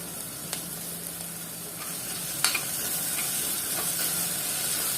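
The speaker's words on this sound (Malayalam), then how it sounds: "1/2 ടീസ്പൂൺ ഇഞ്ചി ക്രഷ് ചെയ്തതും 1/2 ടീസ്പൂൺ വെളുത്തുള്ളി ക്രഷ് ചെയ്തതും ഇട്ട് നല്ലപോലെ ഒന്നുകൂടി വഴറ്റിയെടുക്കാം." Crushed ginger and garlic sautéing in a pan for chicken stew, a constant close sizzle and hiss broken by a few light spoon taps and scrapes.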